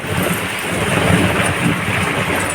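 A sudden thunderstorm with a rural outdoor backdrop: a steady loud wash of heavy rain with a deep, low rumble of thunder rolling underneath, continuous and close.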